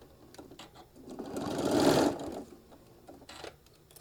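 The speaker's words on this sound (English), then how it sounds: "we're going to stitch it all the way down and get this attached" A sewing machine stitches a seam on a small fabric travel case for a mini iron, one burst that speeds up to a loud whir and then winds down, close and clear in a quiet room.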